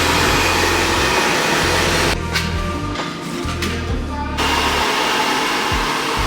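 A hair dryer blows steadily during a pinned blowout with a round brush. Its loud, constant roar dips partway through, then returns at full strength.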